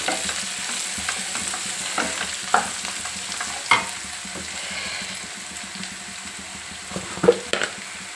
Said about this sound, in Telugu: వెల్లిపాయలు వేయగానే మంచి ఫ్లేవర్ వస్తుంది చూడండి